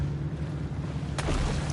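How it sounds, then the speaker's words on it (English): A single grenade blast in the shark game Maneater bursts out near the end, a sudden broadband boom over a steady low droning hum. "So we gotta throw grenades at it."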